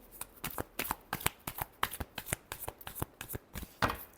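Tarot cards being shuffled by hand, a quick run of crisp riffling bursts in a steady rhythm, close and clear with no talking.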